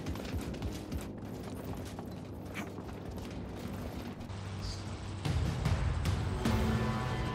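Hooves of an armored horse clip-clop steadily in the Realm Royale video game, a quiet, regular clatter with mechanical creaks that grows slightly louder near the end, with no speech.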